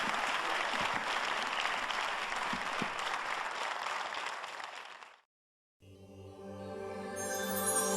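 Audience applause at the MilleVoci 2016 show, a dense, steady roar of clapping that fades out around five seconds, leaving a brief silence before sustained music begins.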